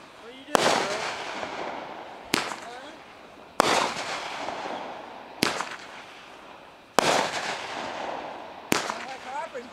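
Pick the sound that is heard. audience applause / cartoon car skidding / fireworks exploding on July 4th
fireworks exploding on July 4th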